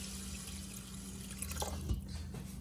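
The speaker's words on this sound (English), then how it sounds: "we're gonna go ahead and add in our water to the 4 line for 4 cups" Water is poured from a tap into a rice cooker pot up to the four-cup line for brown rice, a faint, steady trickle under a low appliance hum.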